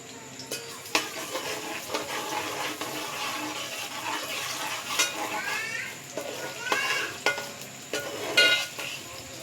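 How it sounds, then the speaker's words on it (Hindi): One medium-sized onion fries in a pan until brown for a daal mash dish. A soft sizzle runs under repeated stirring scrapes and clinks of a spoon against the pan, with louder knocks here and there. "अब मैं प्याज को करूँगी ब्राउन"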